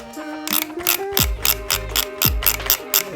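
Film winding on a plastic point-and-shoot 35mm camera, heard up close as a repeated run of ratcheting clicks and short whirring winds at a steady rhythm, with no talking.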